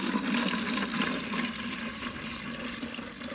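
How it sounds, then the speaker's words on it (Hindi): About two litres of water pour steadily into a container to mix a medicine for pigeons, a continuous close splashing rush that keeps going without a break and with no speech over it. "तो आपने इसमें पानी डाल देना दो लीटर पानी"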